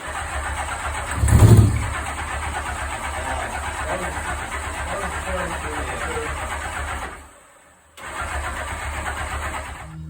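A 1984 Honda Goldwing 1200 engine being cranked on a weak battery, a sputtering starter whir with a loud burst early on, steady churning, then a brief cutoff before cranking resumes.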